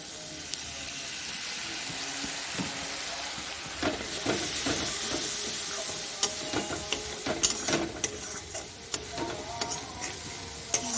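Spice paste of masala with cumin powder fried in oil and stirred in a pan, a steady close sizzle with scraping strokes and occasional utensil taps, no voices.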